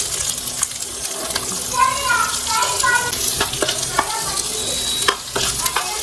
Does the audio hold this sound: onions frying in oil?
yes